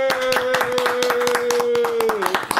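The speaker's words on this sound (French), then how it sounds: "nous allons saluer et applaudir Neneto." A crowd claps steadily in quick, dense applause, close and fairly loud, while singing voices carry on over the clapping.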